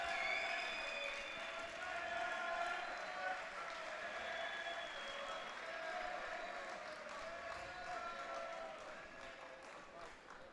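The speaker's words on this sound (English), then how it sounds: "Big cheer from the crowd." A crowd at a veterans world judo championship cheers and claps in a broad, sustained roar, with shouting voices rising above it before it slowly fades.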